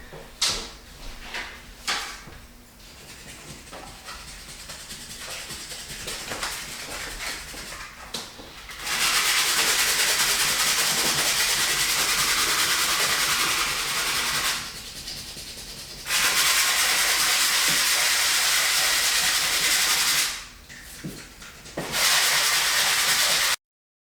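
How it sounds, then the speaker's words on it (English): Sandpaper wrapped around a sanding block scrubs across wood in three long, loud rasping bursts separated by short pauses, each a steady gritty hiss of back-and-forth strokes. "let's get to sanding"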